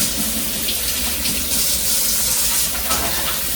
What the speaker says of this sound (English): let me wash my hands again for you on camera